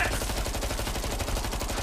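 Dense, continuous automatic gunfire from Killing Floor 2, a loud rapid stream of shots with no break throughout.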